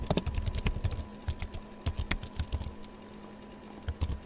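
Fingers type quickly on a computer keyboard at close range, with bursts of key clicks, short pauses, and then more clicking, and no voices.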